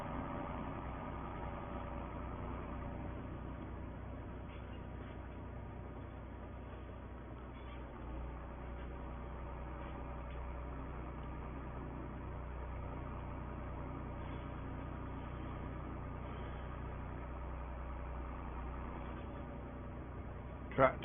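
A farm tractor called the 35, used for sugar beet lifting on a wet 1960 farm day, idles with a low, steady rumble that holds faint and even throughout.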